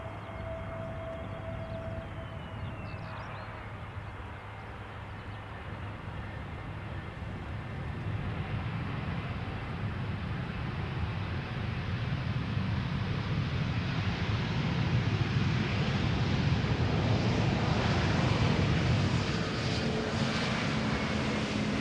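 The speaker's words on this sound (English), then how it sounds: "Flight 460 arriving from Reykjavik, A320 Neo, 1 year old" An Airbus A320neo lands on Schiphol's Polderbaan runway and brakes, its engine roar swelling from a distant whine into a loud, broad rumble that builds steadily over about twenty seconds.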